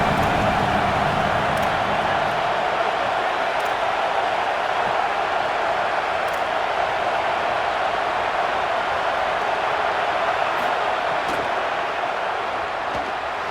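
A home crowd at a Tennessee football game keeps up a loud, unbroken roar of cheering, a wide wall of distant voices. A few brief sharp accents stand out above it.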